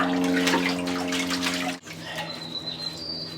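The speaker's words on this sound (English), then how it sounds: "we tilt the pan back and forth, just using the water to wash off each layer there" Water sloshes and splashes as a gold pan is shaken and washed, a steady rushing wash that cuts off abruptly, followed by quieter outdoor ambience with faint bird chirps.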